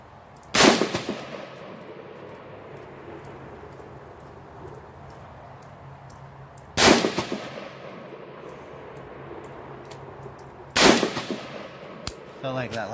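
Three loud, sharp rifle shots fired at a target, well spaced apart, each with a crack followed by a decaying echo over a quiet outdoor background.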